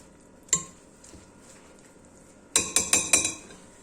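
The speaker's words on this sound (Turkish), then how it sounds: "Şimdi arkadaşlar biraz karıştıracağım" Spoon scraping and clinking against a bowl while stirring black rice salad ingredients, one sharp clink early, then a quick run of four bright metallic taps near the end over a quiet background.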